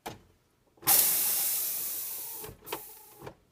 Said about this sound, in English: Release the pressure in that valve.